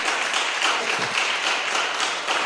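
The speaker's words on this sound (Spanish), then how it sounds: "Si ese aplauso es para el Señor, que se sienta, que tenga vida." Inside a church, the congregation keeps up loud, dense applause with a faint pulsing beat, steady and close throughout the short stretch, with no voices over it.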